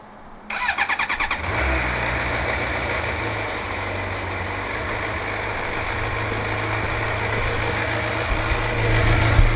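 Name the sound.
vehicle engines starting after winter storage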